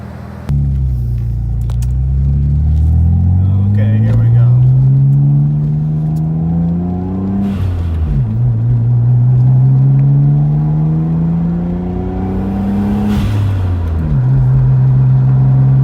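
A Mitsubishi VR4 engine tuned on E85 revs hard on a road, rising through several long pulls with brief dips at each shift, loud and close, with no talk over it.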